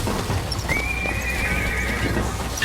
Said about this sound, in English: Equus Mechanical, the automatic stallion, the horse of the future, today.